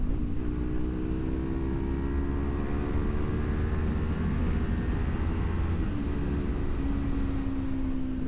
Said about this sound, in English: As you can tell, I got a new exhaust.